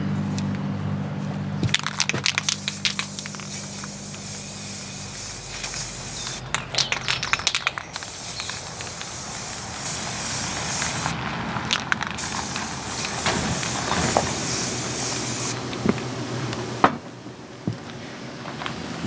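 Aerosol spray paint in an ivory bisque shade being applied to a 1983 Johnson 7.5 hp outboard motor, a steady close hiss with several short pauses between bursts as coats go on.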